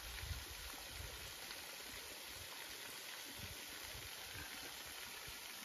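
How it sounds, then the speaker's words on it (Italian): Waterfall roaring about fifteen meters away at night, a constant broad rushing wash of falling water with an even level throughout and no voices. "noi qui saremo a una quindicina di metri da questa cascata"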